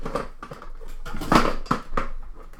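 A hard acrylic stamping block clatters and bounces on a tabletop, a few irregular knocks over a couple of seconds, close by and fairly loud.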